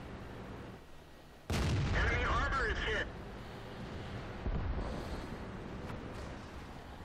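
A T26E4 Super Pershing tank cannon fires in World of Tanks, one loud, sudden boom with a rumbling tail lasting about a second and a half, then softer battle ambience and wind, with a voice speaking.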